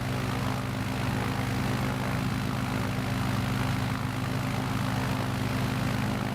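Steady, loud droning of a propeller aircraft engine in Microsoft Flight Simulator 2020 on a bush trip from Breckenridge to Yosemite, a constant hum with no break and no voices.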